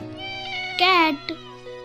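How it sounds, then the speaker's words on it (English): A house cat gives a single clear, drawn-out meow close by, followed by a brief faint chirp, against a steady background hum. "Cat."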